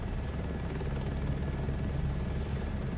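A crop-dusting helicopter in Microsoft Flight Simulator 2024 gives a steady, loud rotor and engine drone with a low rhythmic chop and a thin high whine, unbroken and alone.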